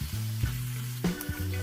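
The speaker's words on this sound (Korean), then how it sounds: "약간 볶다가 간장을 넣고 더 볶아줍니다." Burdock root is stir-fried with soy sauce in a pan, producing a soft crackling sizzle punctuated by short scraping stirs, close and fairly quiet.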